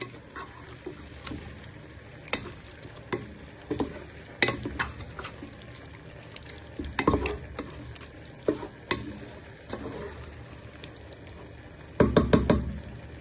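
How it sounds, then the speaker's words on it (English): Spicy honey chicken being stirred in a pan, with a steady low sizzle and irregular spoon knocks and scrapes against the metal, a cluster of quick strikes near the end. "Then you just give that one final stir."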